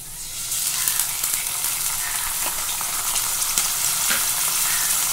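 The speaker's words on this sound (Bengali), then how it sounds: "তেলটা গরম হয়ে গেছে, এবার পেঁয়াজটা দিয়ে দেব। এবার আদা রসুন পেস্টটা দিয়ে দেব।" Onion and ginger-garlic paste frying in hot oil, a loud, steady close sizzle with a broad hiss that stays level throughout, with faint scraping of stirring and no voices.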